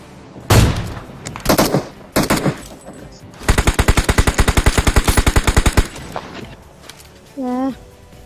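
Bursts of gunfire from high-end weapons in PUBG, the video game: a few short volleys, then one long rapid automatic burst of about two seconds, loud and close, ending in a brief electronic tone.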